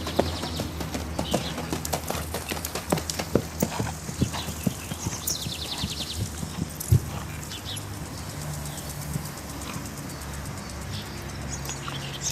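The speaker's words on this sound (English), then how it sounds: "listen to the sounds made by the horse's hoofs" Horse hooves clip-clop in a steady, rhythmic gait as a rider returns from the fields in Peru, moderately close and continuous, with faint birds in the background and no speech.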